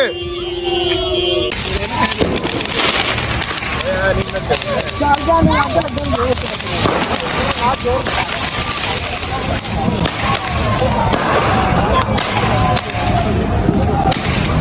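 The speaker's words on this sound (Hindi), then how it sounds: "आ गया चलने लगे हैं अपने पटाखे।" Dense crackling bursts of firecrackers popping continuously nearby at a New Year's night celebration, with people talking and shouting throughout.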